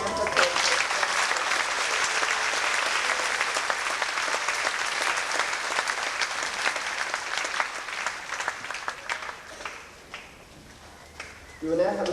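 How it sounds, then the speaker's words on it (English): School assembly audience applauding award-winning students at a Year 10 farewell, sustained crowd clapping for about ten seconds, loud and steady, then fading briefly before a quick swell at the end. "Could you please give these students a round of applause?"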